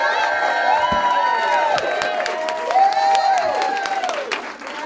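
An audience at a women's trailblazer awards ceremony in Atlanta applauds and cheers loudly and steadily, with whoops and raised voices over dense clapping.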